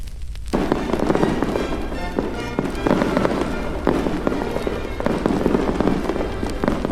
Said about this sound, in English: It's brilliant, the way they've synchronised the fireworks with the music.